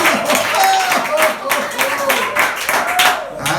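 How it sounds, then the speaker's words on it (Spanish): A church congregation breaks into rhythmic, close clapping with voices calling out over it, a lively burst of applause that holds steady throughout. "ese aplauso sea para Jesucristo"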